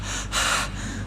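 A man imitates a single sharp gasping breath, like someone drawing air after squeezing out of a small crowded car. It is close and brief, with a breathy rush swelling in the middle.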